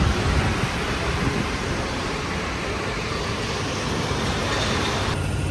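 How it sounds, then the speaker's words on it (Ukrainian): A Paris metro train running on rubber tyres, a loud continuous rumbling roar of the carriage in motion, heard from inside and filling the whole stretch without voices. "Ось цікавий факт метро Парижа не на звичайних таких стильних колесах."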